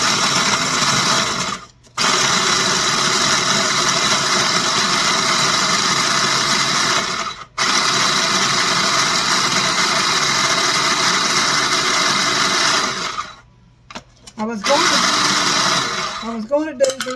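Chocolate cookies for a cheesecake crust being ground in a blender: a loud, continuous motor whir in long runs, briefly stopping twice and pausing near the end before restarting.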